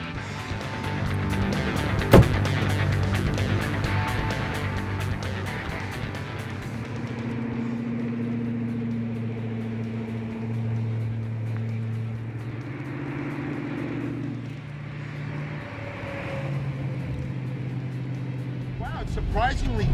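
A Ford GT driven on hot laps, its engine running continuously with shifting revs and drones, heard from inside the car; people talk over it throughout.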